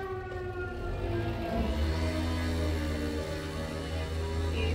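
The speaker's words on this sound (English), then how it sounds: "The sirens that we were hearing, they were testing their warning system." A civil defense warning siren sounds loud and steady during a system test in Menton, France, its sustained wailing tone holding throughout with no talk.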